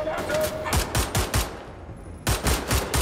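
Pistol shots in Wolfenstein: The New Order crack out in two quick, evenly spaced volleys of sharp, loud reports, separated by a short pause.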